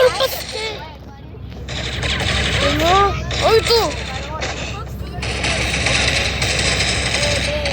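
Rapid bursts of gunfire from the mobile shooter game Critical Ops crackle almost continuously, with short gaps, under a voice talking over the action.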